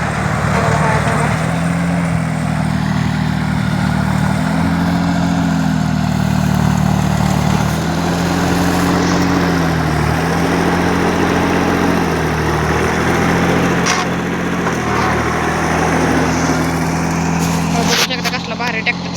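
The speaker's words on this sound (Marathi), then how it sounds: "आपलं भाऊ जरा ट्रॅक्टर चालवते. ट्रॅक्टर फवारते बघा." A tractor engine runs steadily while spraying a pomegranate orchard, its close, loud drone rising and falling slightly in pitch, with people talking over it throughout.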